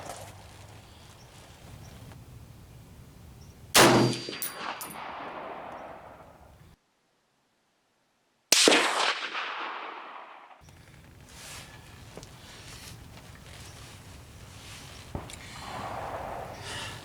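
Two sharp rifle shots with a red dot sight ring out at an outdoor range, each followed by a decaying echo, with quiet pauses around them.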